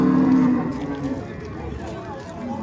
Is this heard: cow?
yes